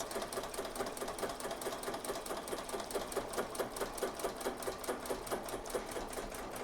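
A BAi Mirror embroidery machine stitches yarn with a fast, steady needle clatter that repeats evenly throughout, close and continuous, with a faint motor hum underneath.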